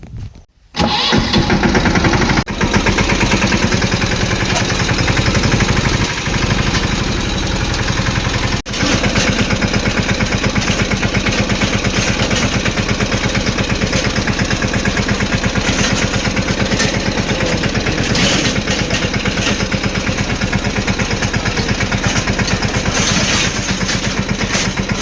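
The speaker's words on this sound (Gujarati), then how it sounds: "ત્યાં ટ્રેક્ટર લઈને જવાનું છે પાછું વાડી છે." A tractor engine runs steadily and loudly for the whole stretch, starting with a sharp burst and settling into a constant mid-pitched rumble on a village trip out to the farm fields; no one talks.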